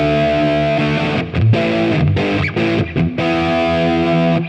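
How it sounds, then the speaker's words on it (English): High-gain Marshall-style electric guitar amp tone modelled on a Quad Cortex, a dry, distorted riff of sustained chords broken by short muted stops, loud and alone without talking. "So a nice, just straight ahead Marshall sound."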